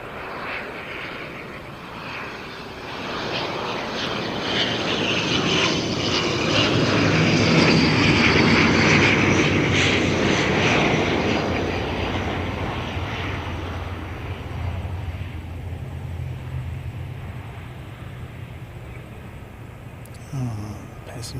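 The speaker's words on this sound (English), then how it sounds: "Got an ATR incoming." ATR turboprop airliner approaching and touching down at an airport, a long propeller drone swelling to a loud peak, then fading and continuing more quietly, with people talking over it.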